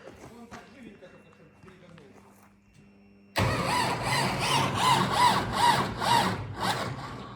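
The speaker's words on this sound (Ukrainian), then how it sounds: "Юмчик не хоче заводитися, спуска зарядом, треба акумулятор поганяти" A YuMZ tractor with a weak, draining battery cranks but fails to start: after a quieter stretch with background noise, loud, close, steady starter grinding runs continuously with a rhythmic rise and fall.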